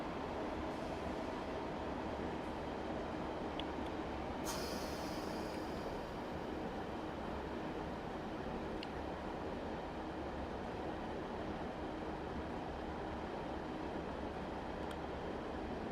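A Severn Valley Railway train in Train Sim World rumbles steadily with dynamic brakes engaged, a continuous low drone with faint metallic squeals and a brief hiss partway through.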